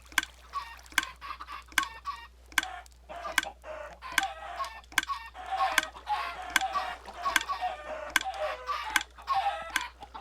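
Chickens in the Minecraft video game clucking and squawking in quick repeated bursts, with sharp periodic ticks throughout; several birds close together, loud and steady, no talking.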